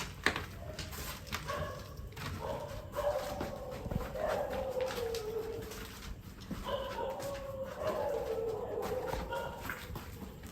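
A puppy heard in an apartment, giving repeated high whimpers and soft cries at a moderate distance over background noise, with no one speaking.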